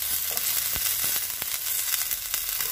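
Cluster beans frying in oil in a pan, with a loud, dense hiss of sizzling oil and a few sharp crackles, close and continuous, with no talking.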